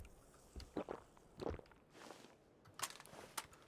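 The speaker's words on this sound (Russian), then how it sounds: "Вот такой вот радостный топот." Footsteps in the battle royale shooter PUBG, a handful of quiet crunchy steps in an uneven rhythm, faint and moderately distant, with no talking over them.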